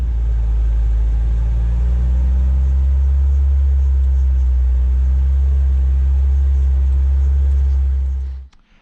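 A Gator utility vehicle driving along a farm fence line, its engine a loud, steady close rumble that runs unbroken before cutting off abruptly near the end.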